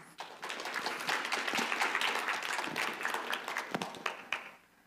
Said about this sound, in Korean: 여러분 함께 박수로 청해 듣도록 하겠습니다